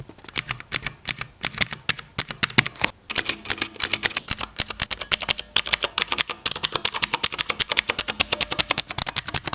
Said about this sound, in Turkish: switch'in nasıl bir ses çıkarttığını tuş yapısını bir yakından mikrofon tutarak deneyimleyelim